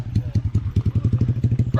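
A motorcycle engine chugs in a quick, even pulsing rhythm close by on a rural path used to haul fertilizer, a low throbbing putter with no talk.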